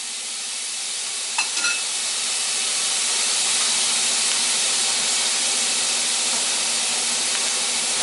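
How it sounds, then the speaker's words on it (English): A T-bone steak searing in a hot pan gives a steady, even sizzle and hiss that holds for the whole stretch, with one faint clink early on and no voices. "We're going to pan sear it right there in the middle"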